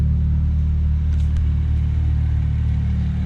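BMW 335i with an N54 engine converted to an On3 single turbo setup, running steadily with a continuous low rumble and a hint of revving, loud and close with no talk.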